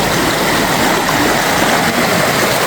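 River water rushes at the Guaxinduba waterfalls in Canta Galo, a loud, steady, close broadband roar without breaks.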